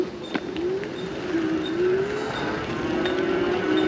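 A Cycrown Dremax e-bike runs on throttle only across flat ground, its electric motor giving a steady whine that rises and dips gently in pitch over continuous wind and road noise, with a few faint clicks.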